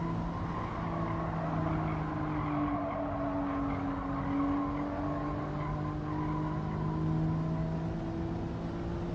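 A racing car's engine in a video game drones steadily at high revs throughout, its pitch sliding gently up and down with a faint tire hiss underneath, no talk.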